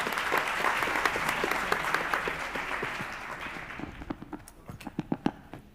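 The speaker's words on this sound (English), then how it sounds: "Please give them a round of applause, please." A conference audience applauds a panel at a future-of-work dialogue: sustained full clapping that gradually thins out, leaving a few scattered, sharper individual claps at the end.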